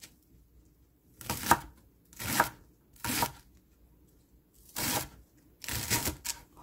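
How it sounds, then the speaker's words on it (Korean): A knife finely chops green garlic on a board for Korean chive kimchi, in five separate bursts of rapid, crisp chopping strokes with short quiet pauses between them. "풋마늘은 좀 총총 썰어주세요."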